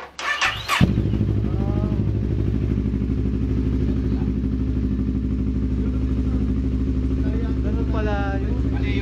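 A CFMoto NK400 street fighter motorcycle engine cranks briefly, fires up and settles into a steady, close idle, with a voice speaking near the end.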